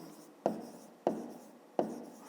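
Pen strokes scratch across paper while numbers are written for a fifth-grade math exercise, three short quiet scrapes a little over half a second apart, close and alone.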